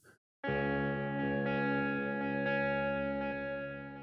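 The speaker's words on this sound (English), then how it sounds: "We also looked at this guitar tone" A sustained, layered electric guitar chord swells in with heavy effects, shimmering and ringing steadily with a wide, washed-out ambient tone.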